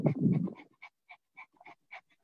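A person imitating a dog panting as a breathing exercise, mouth open and tongue out: a breathy start followed by a regular series of short, quick huffs, close and fairly quiet, with no other speech.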